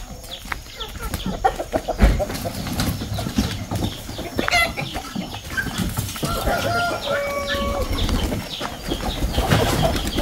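Chickens in a backyard coop cluck and squawk continuously, with rooster-like calls and a few wing flaps, close and busy throughout.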